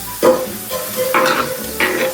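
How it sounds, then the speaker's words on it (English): Fresh cut potato fries frying in hot oil, a loud close sizzle with stirring scrapes that surge three times as more potatoes go into the pan. "start throwing some more French fries in, or potatoes."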